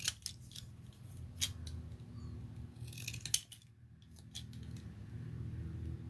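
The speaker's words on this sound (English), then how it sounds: "I need to cut it. And use whatever, you know, decorative scissors you have." Decorative scissors snip through paper in a handful of sharp, close cuts spread across the clip, over a steady low fan-like hum with no talking.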